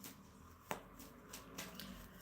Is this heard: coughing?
no